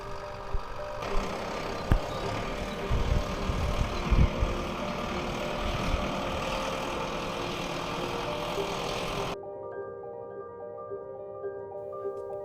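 A farm tractor's engine idles and rumbles nearby at a red kite feeding station, a steady low drone with a few louder knocks before cutting off near the end.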